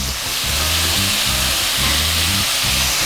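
Spring onion tossed into a hot wok of kung pao prawns with red pepper, garlic and chili, giving a loud, steady sizzle and frying hiss with no talk over it.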